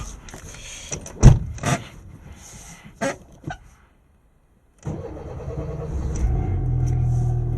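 A car engine cranks with a few sputtering bursts, falls silent briefly, then catches and settles into a steady, rumbling idle close by.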